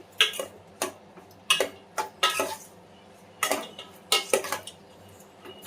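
A spoon clinks and scrapes against a pan while onions are stirred into a ridge gourd curry, giving a series of short, close metallic taps and scrapes in irregular bursts with quiet pauses between them.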